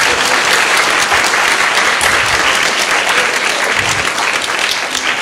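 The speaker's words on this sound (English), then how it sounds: "Let's give Dr. Lipscomb a round of applause." Audience at a university Constitution Day address on free speech applauds Dr. Lipscomb, a dense, steady clapping from a large crowd that stays loud and even throughout.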